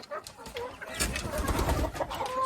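Backyard chickens being let out of their coop cluck and murmur in soft, uneven calls, which grow busier and closer as the flock moves.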